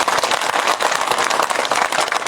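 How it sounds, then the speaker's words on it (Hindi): A crowd at a political rally in Budhal, Rajouri district, claps loudly and continuously, a dense, even roar of many hands with no pauses. "जोरदार ताली मोदी साहब के लिए।"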